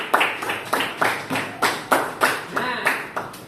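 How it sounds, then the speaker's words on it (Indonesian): A small classroom group claps for group 4, giving about a dozen sharp, rhythmic claps at a steady beat. The claps are close by and fairly loud, with no talking over them. "tepuk tangan buat kelompok 4"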